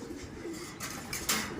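Homing pigeons back in the loft after a derby lap, cooing softly and close by with low, rolling calls under a faint background, along with a few brief noisy rustles or flutters.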